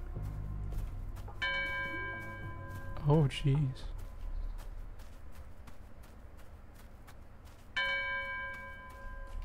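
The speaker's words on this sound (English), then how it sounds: "Where is that bell?" A bell rings out in a Roblox Specter 2 ghost-hunting game, sustained tones sounding twice with long ringing decay, while a person talks over it and footsteps clatter faintly in the background.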